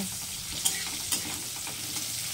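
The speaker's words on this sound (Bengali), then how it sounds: "নুন হলুদ মাখানো উচ্ছেগুলো আমি এবার ভেজে নেব" Bitter gourd pieces coated in salt and turmeric fry in a pan, making a steady close sizzle with a few soft stirring knocks on top.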